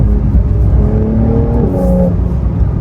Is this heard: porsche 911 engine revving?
yes